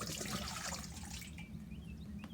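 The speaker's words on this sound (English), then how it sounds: "if I turn this jar even a little bit at an angle, that water is going to come out" Water pours from a tilted mason jar into a bowl, a soft, close trickle and splash that gradually thins and fades over a couple of seconds.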